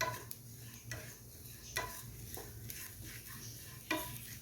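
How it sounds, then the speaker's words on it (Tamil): Grated coconut roasting in a pan over medium heat for a Chettinad vathakulambu, stirred with a spoon: soft scraping strokes and occasional light clicks against the pan over a faint steady sizzle, quiet and close. "கைவிடாமல் கிண்டிகிட்டே இருக்கணும்."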